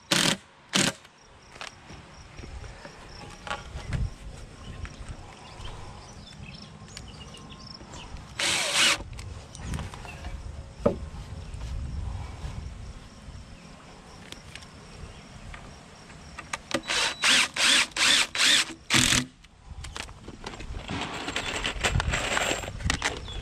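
A power drill drives 2.5 inch screws into lumber for a horizontal beehive, with several bursts of whirring, a long run near the start and a rapid cluster of short pulses later, over steady insect chirping outdoors.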